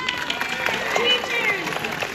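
Convention panel audience at Florida SuperCon gives a round of applause for teachers, a dense crowd clapping close and steady throughout, with people talking over it.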